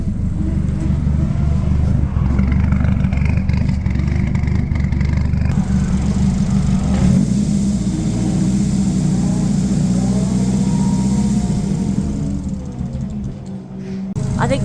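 A Nissan 180SX engine idles roughly, its low mid-pitched drone holding steady and wavering under faint hiss, with a small shift partway through and a dip near the end.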